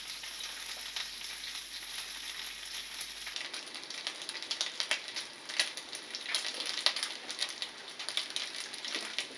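Chicken pieces frying in oil in a pan for chicken noodle soup, a close, crackling sizzle with irregular spits and pops that grows busier partway through, with no talking.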